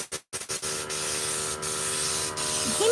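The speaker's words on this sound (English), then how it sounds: "Spray a little bit out first, make sure you get the water out." Critter spray gun spraying thinned white Kilz chalk paint, a few short sputtering puffs followed by a steady close hiss that swells toward the end.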